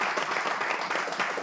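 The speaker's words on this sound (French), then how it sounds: "On applaudit" Dense audience applause at a party dance with a DJ, steady and fairly loud, many hands clapping together for the short stretch with no pause.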